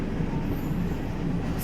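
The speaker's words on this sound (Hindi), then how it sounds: "डेडिकेटेड फ्रीट कॉरिडोर पे चलती हुई वो मालगाड़ी। अभी हम लोग ओवरटेक किए थे उसको कुछ देर पहले, और अब ये हमें ओवरटेक कर रही है दोबारा" A freight train on a dedicated freight corridor rolls past a moving passenger train, a steady loud rumble of wagons heard from inside the coach, continuous and unbroken.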